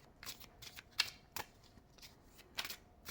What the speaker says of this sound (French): On va touiller les cartes.